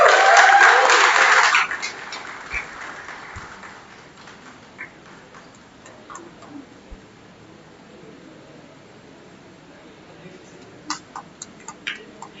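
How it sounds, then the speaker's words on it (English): Applause from an audience for a graduate at a university convocation ceremony, a loud dense burst of clapping for about two seconds that quickly fades, leaving a quiet hall with a few scattered claps. "So a big round of applause for him."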